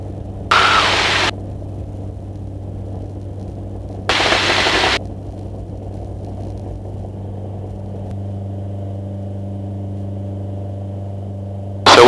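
Jabiru light aircraft engine rolling for takeoff on runway 19 at Murray Bridge, a steady droning hum heard from the cockpit that shifts pitch late on, broken by two short bursts of radio static.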